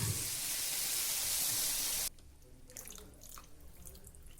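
Water is poured into a pan of soya chunk curry with freshly ground paste, a steady rushing splash for about two seconds that cuts off abruptly, leaving faint clinks and quiet kitchen noise.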